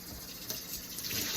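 Cloudy rinse water from washed rice pours from a pot into a kitchen sink in a steady, close splashing stream that runs the whole time, with no talking.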